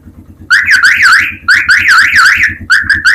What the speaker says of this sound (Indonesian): Klaksonnya keren, ya kan?